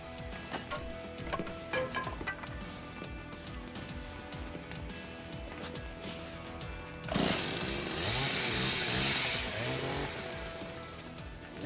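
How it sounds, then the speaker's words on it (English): Chainsaw swung around in a Yakuza video game, its engine buzzing and revving continuously, with a louder roaring burst late in the clip amid game noise. "I'd be really nervous if one of my guys in the big group was just swinging around a chainsaw"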